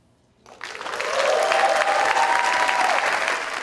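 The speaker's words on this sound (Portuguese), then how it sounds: "Vemos toda a plateia aplaudindo." An audience at a literary event applauds, the clapping swelling quickly into loud, sustained applause from the whole crowd, with a faint whoop-like tone riding over it.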